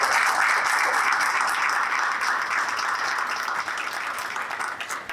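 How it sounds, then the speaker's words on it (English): Sustained audience applause at an entrepreneurs' awards evening, a dense steady wash of clapping from a large crowd that holds for several seconds and tapers slightly at the end. "Can we have another round of applause?"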